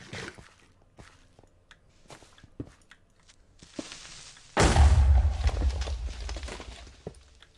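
Eating food in modded Minecraft: soft scattered thumps and clicks, then a loud crunchy munching burst lasting a couple of seconds before tapering off.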